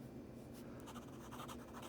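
A worn gold fountain pen nib loaded with Pilot Iroshizuku ink scratches softly across paper in a run of short strokes, faint and close, with no voices.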